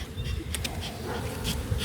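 Honey bees hum in a continuous low drone during a springtime beehive inspection in Kentucky, with a few faint knocks and handling noises over the buzz.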